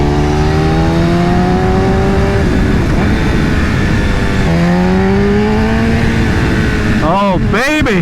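A BMW S1000RR sport motorcycle with an Akrapovic exhaust revs loudly and close by. Its engine note climbs and falls twice in long sweeps, then snaps through a few quick, sharp throttle blips at the end.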